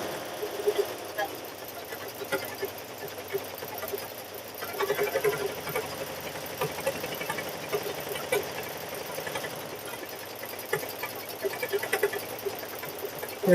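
Sewing machine stitching a grandchild's Christmas quilt, a steady close mechanical whir and rapid needle chatter running continuously, with a voice speaking at times over it.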